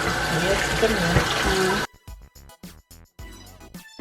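Running water splashing steadily as rice is rinsed under a tap in a home kitchen while Jamaican Sunday dinner is prepared, continuous for a couple of seconds, then a few short irregular bursts of water and handling.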